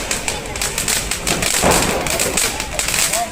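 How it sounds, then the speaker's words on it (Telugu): A 1000-wala firecracker string bursting during Diwali celebrations, a long rapid crackle of sharp pops with one heavier thump partway through, loud and continuous over a noisy outdoor background. "ఇదేమో 1000 పాల. ఇది చాలా పెద్దగా పేలింది."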